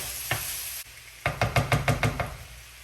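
About a pound and a half of ground meat for lasagna is broken up in a hot pan: a spatula knocks against the pan once, then in a quick run of about seven taps over a steady, quiet sizzle.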